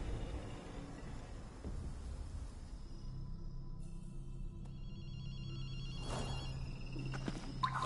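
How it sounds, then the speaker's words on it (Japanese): A telephone rings in Ghostwire: Tokyo, a faint electronic trill repeating in short bursts over a low ambient hum, with a dull thump partway through. "アクト、電話の音が聞こえないか。"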